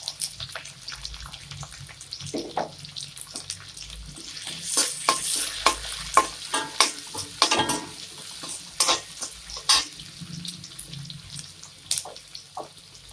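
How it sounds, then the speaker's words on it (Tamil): Finely chopped shallots sizzle in a hot pan for a Tamil lentil-dumpling curry, with irregular clicks and scrapes of stirring, close up and fairly quiet, no talking. "நறுக்கி வச்சுருக்கோம் இல்லையா சின்ன வெங்காயம், அதில் கொஞ்சமாக இப்போ வதக்கிக்குவோம்."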